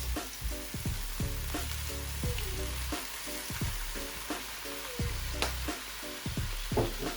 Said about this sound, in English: So to this we're gonna add some soy sauce.